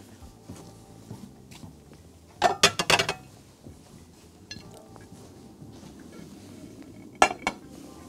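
Plates clink and clatter on a counter while a cook plates German-style cabbage, sausage and buttered parsley potatoes, with a few sharp ceramic knocks over a quiet kitchen hum.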